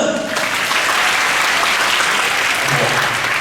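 Lively audience applause at a vocational college gathering in Singburi, Thailand: loud, dense clapping that fills the space steadily from start to finish.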